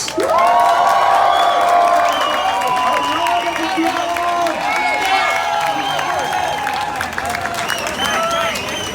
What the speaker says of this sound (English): A round of applause for Sahar.